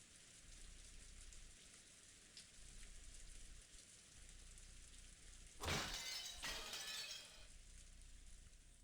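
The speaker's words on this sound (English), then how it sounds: "In the still silence, where there was no sound except that of the rain" Steady rain falls in a quiet scene from the visual novel Umineko, a soft even hiss throughout, swelling briefly into a louder, sharper crashing burst near the middle before settling back.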